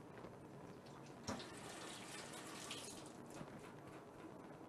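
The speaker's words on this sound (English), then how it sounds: "Let me just rinse my hands." Water running from a kitchen tap while hands are rinsed, a faint steady hiss and splash with one brief knock partway through.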